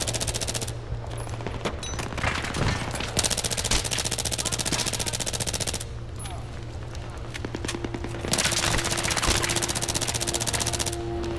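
Sustained automatic machine-gun fire from the Battlefield 3 video game, loud and rapid in long continuous bursts with brief pauses, over steady game background noise and other gunfire.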